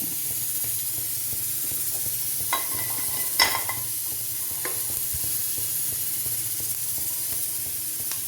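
Mustard seeds, fennel, cloves, cardamom, cinnamon and mace crackle in hot oil for a Kerala-style pork curry, a steady close sizzle broken by a few sharp pops and stirring clinks, with no talking.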